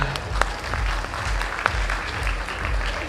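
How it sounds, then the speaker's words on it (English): A crowd at a college freshers party and inauguration event breaks into steady, dense applause that keeps up evenly throughout, with a few sharper claps standing out. "Can we have a big round of applause for the man?"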